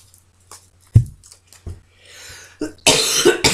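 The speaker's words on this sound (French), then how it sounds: "je crois que c'est la bougie qui me fait tousser" Someone coughs several times close up, sharp dry bursts scattered among short pauses, ending in a rough, breathy fit.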